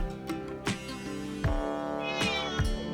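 A cat meows several times during an outing to the seaside in Pohang, with repeated clear, fairly close calls over steady background noise and no talking.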